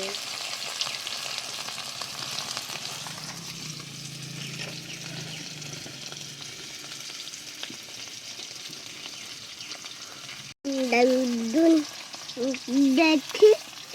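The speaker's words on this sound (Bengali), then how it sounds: "পনির আমার ভাজা হয়ে গেছে, তবে আমি খুব বেশি লাল লাল করে ভাজি না, হালকা ভেজেছি পোস্তর জন্য" Paneer cubes fry in hot oil in a pan in a village kitchen, a steady close sizzle with occasional stirring, followed near the end by brief talking over the frying.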